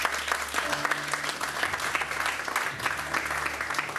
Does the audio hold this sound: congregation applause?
yes